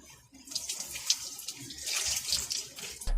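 Milk poured over the face to flush pepper spray from the eyes after a Byrna less-lethal test, giving a continuous splashing, trickling liquid sound up close with no talk, ending in a sudden louder burst.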